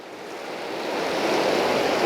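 Water from the Kangaroo River tumbles down a cliff face as a small waterfall, heard from a viewing platform as a steady broadband rush that swells slightly louder over two seconds, with no voices.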